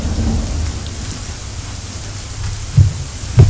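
A steady rain background track hisses evenly throughout, with two brief low thuds near the end and no voices.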